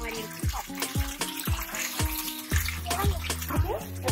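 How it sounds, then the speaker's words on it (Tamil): Water is poured into shikakai powder and stirred until the lumps dissolve, giving repeated wet sloshes and splashes at a steady stirring rhythm, close by, with a voice audible alongside. "உங்களுக்கு தேவையான அளவு தண்ணி ஊற்றிட்டு பாருங்க, நல்லா கட்டி இல்லாம கரைச்சிட்டீங்கன்னா இந்த மாதிரி இருக்கும்"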